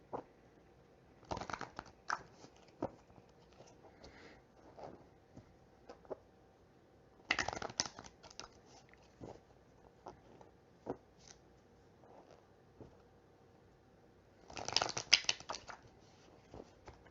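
Oversized tarot cards being shuffled by hand in a few separate bursts of papery riffling and flicking, quiet and close, with soft handling noises between them.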